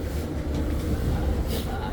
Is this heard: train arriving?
yes